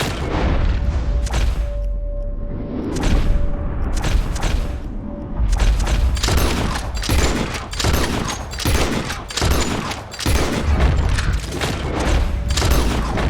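Rapid bursts of rifle and shotgun fire at flying birds in the video game Red Dead Redemption 2, sharp loud cracks in quick irregular clusters with brief pauses between volleys.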